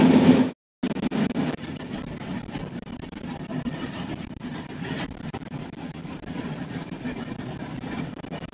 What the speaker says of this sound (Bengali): আমাদের ট্রেন এবার পাস করছে আমার প্রাণের শহর বর্ধমান স্টেশন।